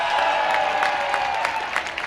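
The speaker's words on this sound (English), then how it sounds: "Nice round of applause for somebody on that." Crowd at a minor-league baseball game between the Somerset Patriots and New Jersey Blasters applauding a fan's catch, a steady wash of clapping with a few sharper bursts, moderately loud and continuous.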